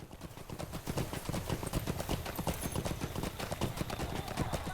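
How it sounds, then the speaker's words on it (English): A regular mount's hooves beat a continuous, brisk clip-clop throughout in Lord of the Rings Online, close and steady with no voices over the riding. "Right, let's use my normal horse and go"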